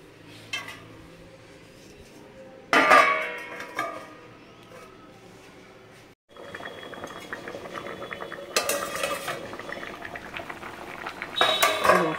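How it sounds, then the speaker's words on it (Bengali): Water heating to a boil in a cooking pot in a home kitchen, soft bubbling and liquid sounds mixed with intermittent clatter of dishes and utensils, moderately quiet with louder bursts. "জল ঢেলে দিয়েছি, ফুটুক এবারে।"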